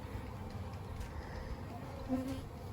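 A steady low hum of many honeybees droning together in a hive during an inspection, close and continuous, with a slightly louder buzz passing near the end.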